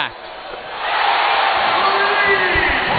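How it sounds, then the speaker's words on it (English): A basketball arena crowd at an Arkansas vs Fresno State game roars and cheers, the noise swelling to a loud, sustained wash that holds steady to the end. "The crowd says it all."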